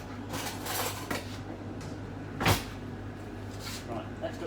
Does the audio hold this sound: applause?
no